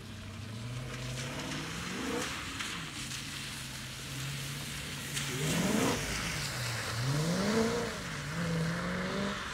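A BMW car runs on a motorkhana course, its engine rising and falling through repeated revs and throttle bursts at moderate distance, with no voices.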